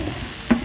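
Chopped tomatoes being stir-fried in a pan, a steady sizzle with a brief louder hiss and stir around the middle.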